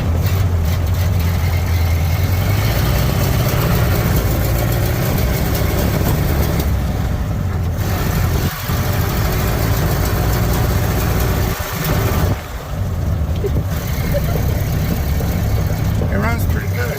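Model A Ford pickup engine running steadily, a loud, continuous low rumble close by, with faint speech blending in and a couple of brief dips in the sound.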